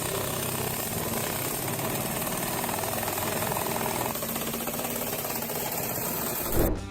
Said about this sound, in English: Check out the Air Jackhammer in action.